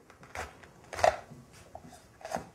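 A knife cuts through a large pomegranate, giving a few short, crisp cracking and crunching strikes close up, with one sharper burst at the midpoint and a final crack near the end, no voices.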